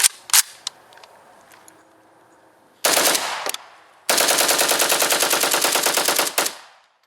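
An AK-variant rifle fires: a short burst of sharp, loud reports, then a longer rapid string of evenly spaced shots that ends in a fading echo. Close and loud, with no talking.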